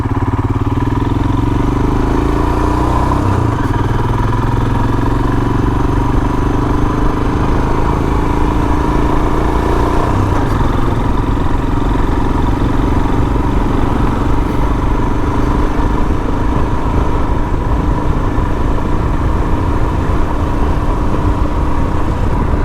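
A Royal Enfield Himalayan motorcycle engine idles steadily and loudly up close, a constant mechanical clatter with no one talking.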